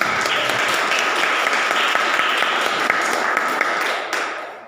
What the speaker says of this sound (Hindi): प्रभु के लिए ताली बजाएं